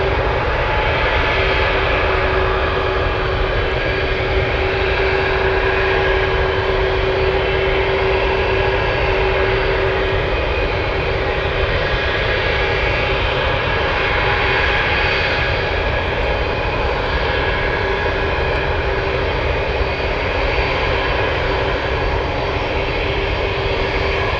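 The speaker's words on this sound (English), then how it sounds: "that 747 is flying in from Guam" A Boeing 747 Dreamlifter, flight Giant 518 arriving at Anchorage from Guam, gives a loud, constant jet-engine roar with a steady whine, unbroken and without voices.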